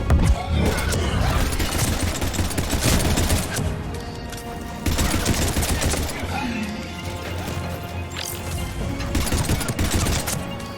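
Rapid bursts of gunfire in Mass Effect 3 ring out in repeated volleys over a combat din, loud and close with brief lulls between clusters of shots.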